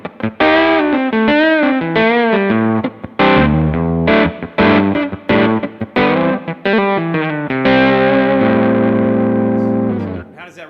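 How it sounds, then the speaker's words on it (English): Electric guitar played with overdrive and reverb, chords and sustained notes ringing out, loud and continuous before fading at the end. "Yeah, let's call it an overdrive pedal. Yeah. Some reverb."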